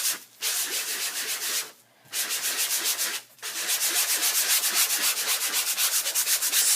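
A wooden pocket layout is sanded by hand to give it a distressed look: fast, rhythmic back-and-forth rasping strokes, close and loud, broken by two short pauses, with no voices.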